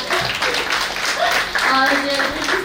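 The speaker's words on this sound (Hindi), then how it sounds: "जोरदार तालियां बजाएं" Audience applause at an award ceremony in Delhi, a dense continuous clatter of many hands clapping in a hall, with voices carrying over it during the second half.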